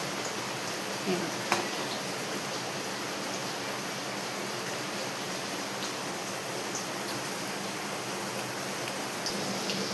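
Heavy rain falling steadily as a dense, even hiss that fills the whole stretch, with a brief spoken remark near the start.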